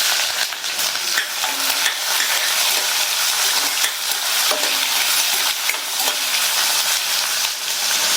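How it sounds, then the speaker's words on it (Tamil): Capsicum sautéing in hot oil with curry leaves and three dried chillies gives a steady, close sizzle and frying hiss, with stirring scrapes running through all eight seconds and no talking. "லைட்டா குடமிளகாவை வதக்கியாச்சு."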